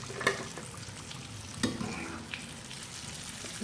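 Chicken popcorn pieces frying in hot oil, a steady soft sizzle throughout with a couple of sharper crackles and stirring clinks, close by and without talk.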